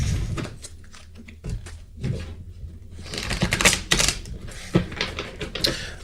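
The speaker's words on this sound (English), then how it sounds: "these cards are shuffling like hard today" Stiff tarot cards are shuffled hard and fast, giving continuous close riffling and snapping, fairly quiet, with no talk.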